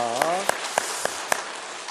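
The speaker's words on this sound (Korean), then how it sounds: "잘 다녀온 우리 형준이 환영하고 축복하는 박수 하겠습니다" A church congregation claps to welcome back a young man named Hyungjun, a spread of applause with a few sharper individual claps standing out, with a voice briefly audible at the start.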